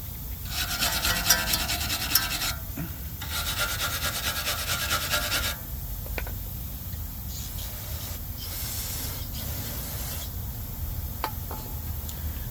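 Car brake parts on a Volkswagen Atlas are scrubbed clean with brake cleaner in bursts of close, harsh rubbing strokes separated by quieter pauses and faint clicks, with no voices.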